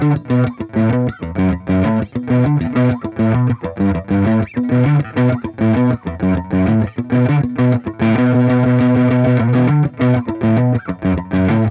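Heavily distorted electric guitar riff, rhythmic and chunky, moving into longer sustained notes near the end; loud and up close, no talking.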